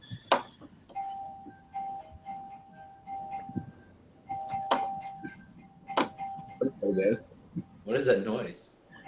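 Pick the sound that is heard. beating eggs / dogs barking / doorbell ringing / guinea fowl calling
doorbell ringing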